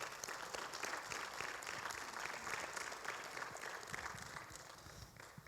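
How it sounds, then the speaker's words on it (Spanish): Church congregation applauds continuously, a thick, even roar of many hands clapping at moderate distance with some stomping-like low thuds mixed in, sustained without pause. "dale un aplauso al Señor"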